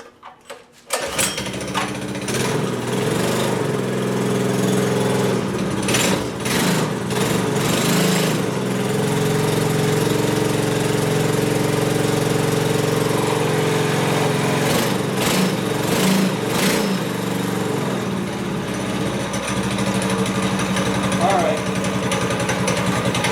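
A mini bike's 212 engine runs steadily with the choke opened, a loud, continuous droning roar that holds for the whole stretch with small surges in revs, and a voice breaks in over it now and then.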